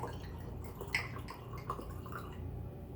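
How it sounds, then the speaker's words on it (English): Wine poured into a glass at a bar, a soft liquid trickle and drip with a brief splash near the start, close and fairly quiet against light background noise. "So we're gonna pour about half a glass of wine"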